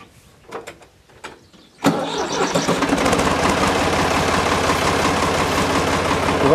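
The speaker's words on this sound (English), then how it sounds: "I'm going to start the tractor up, so it's going to be a little noisy" Farm tractor, ready for bean planting, cranks with a few short clicks and then fires up, settling into a loud, steady running rumble close by.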